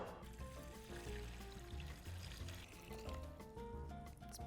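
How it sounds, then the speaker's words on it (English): Tap water streams and trickles into a big pot being filled for cooking pasta, a faint steady pour sitting beneath louder music throughout. "now we're gonna fill it up with enough water to cover our pasta."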